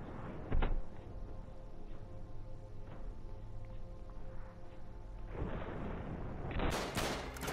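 Gunfire in the video game Uncharted: a sharp near shot, then a low rumbling bed and a burst of booming, crackling shots toward the end.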